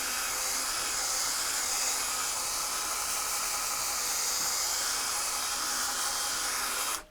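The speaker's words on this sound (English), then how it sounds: "This is our final polishing stage" In the final polishing stage on a BMW or MINI plastic headlight lens, a powered polishing pad runs with paste, giving a continuous, close high-pitched whir and hiss that cuts off abruptly at the very end.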